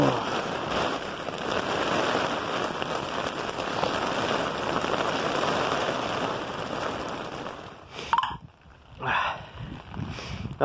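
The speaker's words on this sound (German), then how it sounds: "Es regnet zwar immer noch" Rain falling during a storm at a tent campsite on a field, a dense, steady hiss of rain and gusts for most of the stretch, then thinning into scattered patters and rustles near the end.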